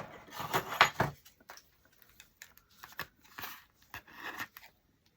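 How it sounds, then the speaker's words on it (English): Scissors snip through material during a cardboard and wood primitive country craft, a few crisp cuts bunched near the start, then scattered quieter handling clicks and rustles, close and fairly faint with no talking. "scissors"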